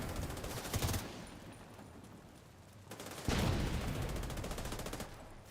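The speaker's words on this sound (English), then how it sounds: "I'm shooting everything." Gunfire in The Division 2, two bursts of rapid automatic fire with a quieter pause between them, the second burst longer and louder.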